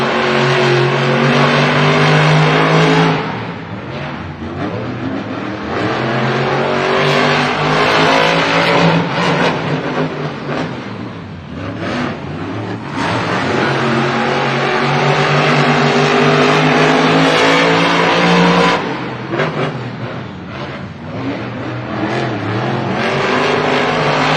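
Monster Jam monster trucks in World Finals qualifying, engines revving hard in loud surging bursts with brief dips between, close and powerful, with a constant crowd wash behind.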